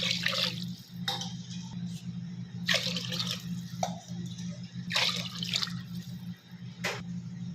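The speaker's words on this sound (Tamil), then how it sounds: "இப்போ இதில் நம்ம தண்ணி சேர்த்துக்கலாம்" Water is poured into a cooking pot of rice in several uneven splashing bursts over a steady low hum, with dripping between pours.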